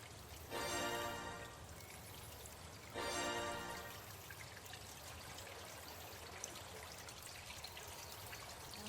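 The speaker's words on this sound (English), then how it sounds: "You see rushing water." Spring water rushing inside a well house in the Colossal Cave video game, a soft steady pouring and trickling stream, with two louder surges of splashing near the start.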